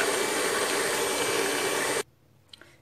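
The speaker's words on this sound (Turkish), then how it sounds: "Ben 3 yumurtamı içerisine kıracağım ve güzelce çırpıp şeker ilave edeceğim üzerine." Eggs whisked with sugar by an electric mixer, a loud steady whirring drone that runs for about two seconds and then cuts off abruptly, leaving faint clinks.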